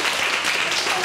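Classroom applause from a group of high school students, a dense even patter of clapping lasting about a second with no break.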